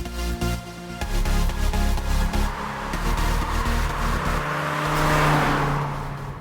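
A 2016 Mazda CX-3 compact crossover accelerates on the road, its engine note rising steadily and loud over road and wind noise inside the cabin, with no talk.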